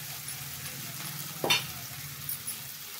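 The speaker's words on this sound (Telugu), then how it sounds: "వీటిని కూడా మనం గోల్డెన్ బ్రౌన్ కలర్ వచ్చే వరకు వేయించుకుందామండి." Okra (bhindi) pieces fry on a low flame, giving a steady, quiet sizzle with one brief scrape or stir partway through.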